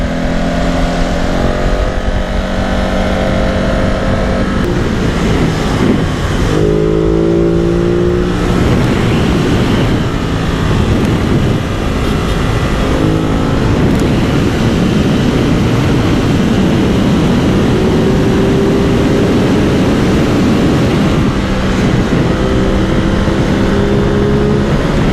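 A Ducati Multistrada 950 motorcycle with stock exhaust drones loudly and continuously on a highway ride, its engine note rising and falling through gear changes under heavy wind roar.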